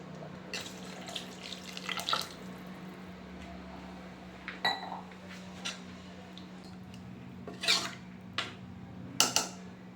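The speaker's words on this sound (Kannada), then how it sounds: "ಸೊ ನಾನು 1 ಗ್ಲಾಸಸ್ ನೀರು ಹಾಕ್ಕೊತೀನಿ ಈ ಗ್ಲಾಸಲ್ಲಿ." A glass of water poured into a pressure cooker of chana masala in a home kitchen: soft splashes and light clinks of glass on metal come in short, scattered bursts with no talking.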